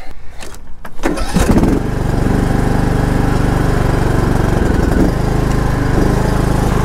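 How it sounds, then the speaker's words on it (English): A small engine, likely a generator at an off-grid tiny house, cranks and fires up after two weeks unused, then settles into a steady, loud, close running drone. "It's just absolutely incredible how easy this starts."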